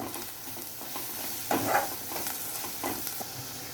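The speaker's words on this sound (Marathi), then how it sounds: "आता हे सगळं छान नीट व्यवस्थित परतून घ्यायचं आहे" Spices being stirred and sautéed in a pan for Maharashtrian baingan bharta, a soft continuous sizzle with occasional scraping strokes of a spoon, close and moderate in volume, no voice.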